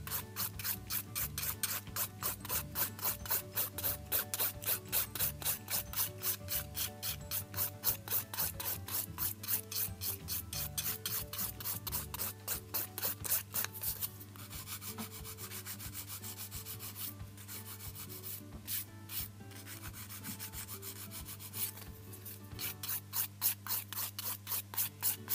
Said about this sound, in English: This nail's now ready for filing.